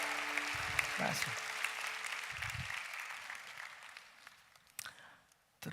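Applause from a Korean Sunday worship congregation, a dense but fairly faint patter of many hands that gradually tapers off, with brief low voices mixed in and a few louder claps at the end.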